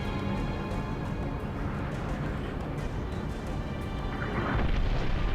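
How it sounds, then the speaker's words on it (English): Explosion in the Halo: Reach video game, a broad rumbling blast bed that holds steady and swells slightly louder near the end, with no talk over it. "The upside down explosion is kind of what gets me."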